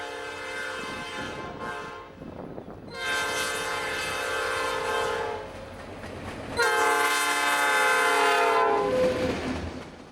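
Norfolk Southern local freight train passing with its horn blaring in long, loud chords, one short blast followed by two sustained ones, over a steady rumble of the train.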